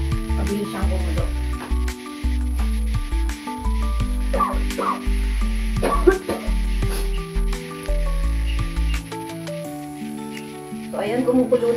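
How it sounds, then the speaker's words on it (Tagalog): Sauce bubbles and sizzles in a pan over a strong flame, a steady simmering crackle with soft pops, continuing under occasional clinks and movement. "kumukulo na siya"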